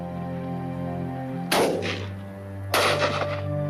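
Shotguns fire at a pheasant shoot, two moderately distant blasts roughly a second apart over a steady musical backdrop, with no speech.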